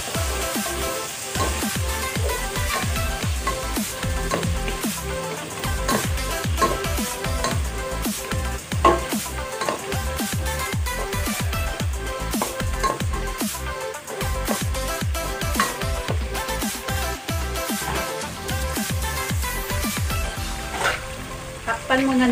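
Beef sautéing in a pot with beef cube and black pepper, a steady loud sizzle and crackle of frying with dense popping spatters and occasional stirring scrapes throughout.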